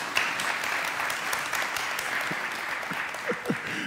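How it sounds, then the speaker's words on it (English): Moderate applause from a church congregation during a sermon, steady clapping for a few seconds with a couple of brief voice sounds near the end. "I don't know if that's a good thing to clap about or not."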